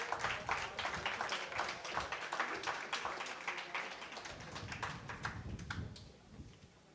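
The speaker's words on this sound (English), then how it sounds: "let's hear a big round of applause for our 6 finalists." Sustained applause from an audience, dense clapping throughout that tapers off near the end.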